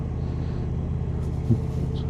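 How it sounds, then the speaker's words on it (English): Indian Challenger Dark Horse 112 touring motorcycle idling, its exhaust giving a steady low, rumbling burble close by with only a slight swell midway. "Got a lovely sound to this exhaust."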